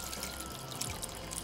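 Water poured into a duck sauce made with orange juice and fresh tomatoes, a steady broadband splash and trickle running continuously for about a second and a half, close and moderately loud.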